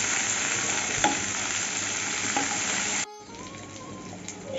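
Chopped tomato and green chili lightly fry in a pan while preparing loti kasundi, a steady close sizzle that suddenly drops away midway and then returns softer with faint stirring.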